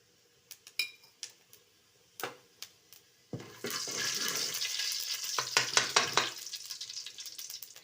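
Fennel seeds drop into hot oil in a pan. A few sharp utensil clicks come first, then a loud, close crackling sizzle runs for about three seconds before easing off into scattered pops.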